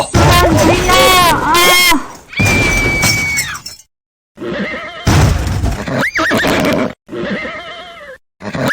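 A horse in an animated film neighs shrilly in loud, wavering whinnies, followed by crashing and dramatic effects with a scream and abrupt silences.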